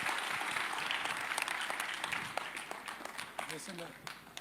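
Audience applause at the Ramayana trailer launch event, a broad wash of clapping that gradually thins and fades toward the end, with voices from the crowd mixed in beneath.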